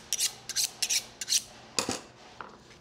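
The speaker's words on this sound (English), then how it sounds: "My knife is going smooth back and forth." A knife sliding smoothly back and forth along a fish while filleting, making short rasping scrapes in a quick series of four strokes, then a louder pass and a faint final one, close and clear.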